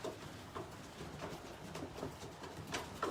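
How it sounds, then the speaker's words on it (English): Racing pigeons moving about inside a race loft as they go up to their perches, with soft wing flutters, scuffling feet and low cooing, irregular bursts close by over a muffled room background. "birds are going up to their perches"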